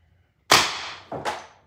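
A CO2-powered air gun fires once, close up: a sharp crack with a quick decay, then a second smaller burst about half a second later. No one talks.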